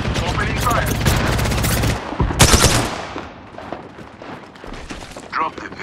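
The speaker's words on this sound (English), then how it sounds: "I'm taking fire." Rapid bursts of automatic gunfire in the video game Apex Legends on Nintendo Switch, loud and sustained over the first few seconds with a sharp burst later, mixed with game voice lines and in-game speech.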